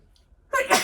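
A single sudden, explosive sneeze close up, preceded by a near-silent pause and a faint intake of breath.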